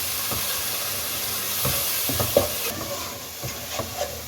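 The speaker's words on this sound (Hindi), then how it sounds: "अब इस मसाले को इसमें भूनें।" Ground spice masala of red chilli, turmeric and coriander powder frying in a pan for a potato and capsicum sabzi, a low hissing sizzle with intermittent stirring scrapes and knocks, close.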